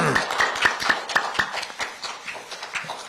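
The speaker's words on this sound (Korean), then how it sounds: "뜨거운 박수 한번 쳐줄 수 있을까요?" Scattered applause from the audience at a press conference, sparse and uneven claps rather than a full ovation, with a little background voice underneath.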